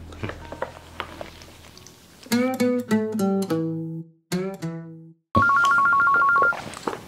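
A phone ringtone in a short film plays a bright repeating melody of electronic tones, broken by a short gap, then a steady two-tone ring continues near and loud.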